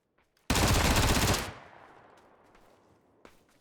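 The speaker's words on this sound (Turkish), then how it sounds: "Ne kadar çok vuruyor elindeki VSS aga" A VSS rifle in PUBG fires one loud, dense burst of about a second, followed by a fading echo tail and a single faint shot near the end.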